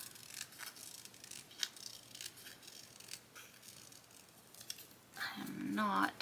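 Scissors cutting the white border off a paper sticker, a run of soft snips and rustles with a louder crisp stretch at the end, with a voice talking over it.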